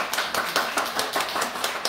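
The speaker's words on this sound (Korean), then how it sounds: "생활지도 박수 좀 쳐주세요." Audience at a teacher training session at Yangji Middle School gives a short round of clapping, a brisk, steady patter of hands from a modest group, with no talk over it.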